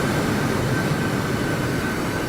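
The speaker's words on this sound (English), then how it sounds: "So the train is going to be a little bit fast, but blasting down to" Eurostar train in the RO-Scale Sandbox video game running at full throttle, a steady, loud, continuous rumble and roar with a faint sustained tone, holding unchanged throughout with no voices.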